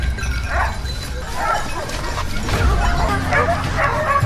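Hunting dogs barking and yelping during a chase after wild hogs and boars in a forest, excited overlapping yips and whimpers from several dogs over a rough, noisy background.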